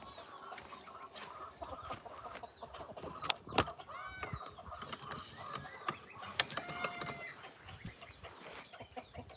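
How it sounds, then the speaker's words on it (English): A rooster clucks repeatedly in a farmyard on a morning among the animals, with scattered nearby clanks and rustling and no talk. "That rooster better not try to be mean."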